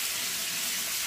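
Stock poured slowly into a hot pan of ratatouille, a steady broad sizzle and hiss held close and even for about a second, with no talk.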